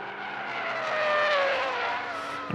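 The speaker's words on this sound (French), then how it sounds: "Alors que derrière, il y a du grabuge avec un tête-à-queue pour Bernard Moreau" A saloon race car spins out on the Dijon circuit, engine note rising and falling through a short, loud tire squeal that swells and fades in under three seconds.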